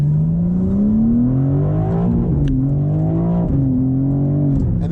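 A BMW M4 CSL with an 8-speed gearbox downshifts and pulls away, its engine note rising steadily, dropping briefly at each shift, then climbing again, heard close and loud from inside the car.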